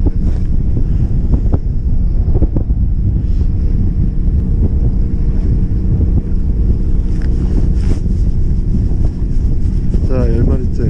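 A strong, cold headwind batters the microphone on a boat out squid fishing in severe winter cold, a constant loud rumbling buffet with engine and water noise beneath it.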